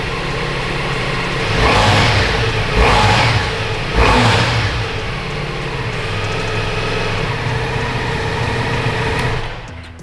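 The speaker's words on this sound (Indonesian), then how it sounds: "Ini suara dari Ducati V4." Ducati Multistrada V4S motorcycle on its stock exhaust, a V4 engine held at a steady loud idle, then blipped in three short revs close by before settling back and cutting off near the end.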